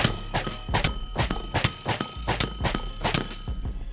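Crossbows firing rapidly in Minecraft PvP: a quick, regular series of around fifteen sharp thunks and clicks, close and fairly loud, with no voices.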